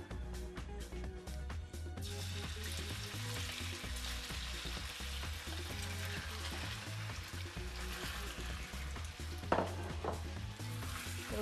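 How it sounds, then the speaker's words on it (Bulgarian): Chicken pieces frying in hot olive oil in a pan give a steady, close sizzle with continuous crackle, plus a couple of brief utensil clinks near the end. "Сипваме зехтин в нагорещения тиган и сипваме пилешкото месо да се задуши."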